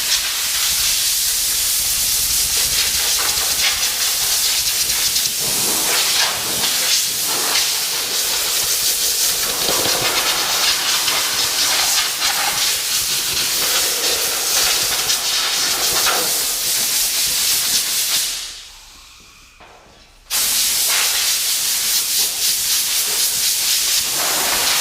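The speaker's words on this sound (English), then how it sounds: "So I'm just going to use a air blower and blow the dust off of these mainly." A compressed air blower hisses steadily as dust is blown off the wheels of a Ford 5610 tractor, a loud continuous rushing broken by one brief gap of near silence before it resumes.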